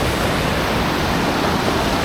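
Ritson Force waterfall in the Lake District roars as a loud, steady wash of rushing water, continuous and close with no pauses or voices.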